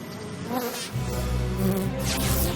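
Cartoon Flash Bees from My Little Pony: Friendship Is Magic season 7 buzz in a steady, droning swarm that swells in after a quiet start and carries on loudly to the end, with no talking.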